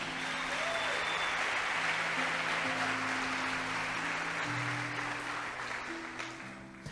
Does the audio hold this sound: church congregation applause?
yes